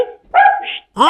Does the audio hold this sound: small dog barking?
yes